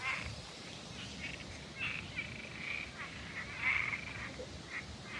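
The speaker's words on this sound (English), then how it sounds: "I think I hear some frogs." Frogs croaking around a lake outdoors, faint scattered calls over a soft background hiss, distant and quiet with no clear talking.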